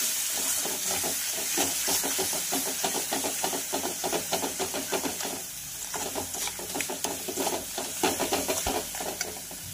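Dry spice masala sizzling and frying in oil in a pan for a Vidarbha-style egg curry, a steady close hiss with repeated stirring scrapes throughout.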